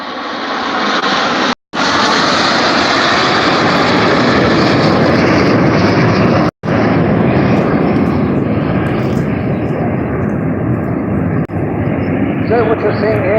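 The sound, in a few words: Jet Provost jet trainer aircraft flying at Bournemouth Airshow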